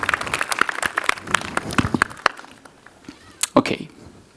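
A conference audience claps and applauds in response to a Pepper humanoid robot, with scattered, uneven claps that thin out and fade, followed by a few last isolated claps.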